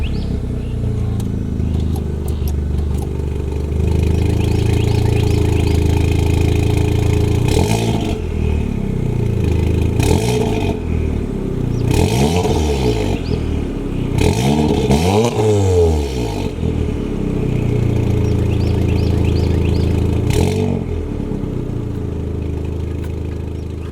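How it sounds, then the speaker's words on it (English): A warmed-up Volkswagen Golf R fitted with a downpipe and high-flow resonator idles close by, then is revved several times in sharp bursts, each rev rising and falling back to a steady idle. "threw the camera down behind the car so that way we can turn it on and give it a few revs"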